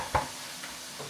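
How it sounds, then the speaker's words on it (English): Ground turkey fries in an oiled pan with a soft continuous sizzle, punctuated by a few brief scraping stirs of a utensil close by. "And it fries pretty quick, and you don't get a lot of grease like you would off the hamburger."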